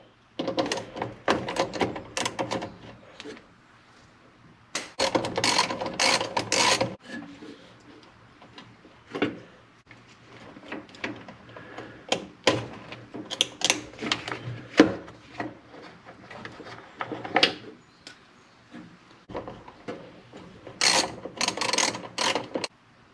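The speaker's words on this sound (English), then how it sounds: "these are 1/2-inch nuts. So let's go ahead and remove those." Metal nuts being removed with a ratchet from a Club Car golf cart, with bursts of close ratcheting clicks and taps separated by short pauses.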